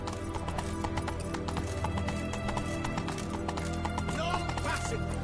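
Roach the horse's hooves clip-clop steadily in The Witcher 3, a close, even rhythm of strikes with whinnying mixed in over a dense game soundscape.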